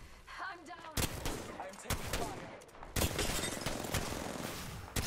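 Mastiff shotgun blasts in the battle royale game Apex Legends, Season 5, three loud broadband booms about a second apart amid ongoing game noise and scattered background chatter.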